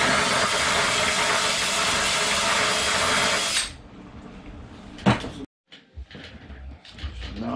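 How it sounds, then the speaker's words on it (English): A power drill bores holes in a telescoping rod for a sailboat mast crutch, giving a loud steady whine for several seconds that stops abruptly, followed by a few scattered handling clunks and taps. "Okay, I'm drilling the hole, the rod."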